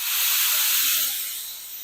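A loud, steady rush of steam hissing from a pressure cooker cooking raw mangoes, easing off slightly toward the end, with no voices.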